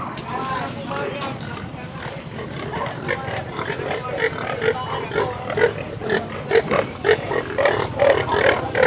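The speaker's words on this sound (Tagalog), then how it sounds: "Ang dami ah, ang daming baboy." Many pigs for sale grunt and oink close by in a busy pen, a constant noisy chorus with people talking over it.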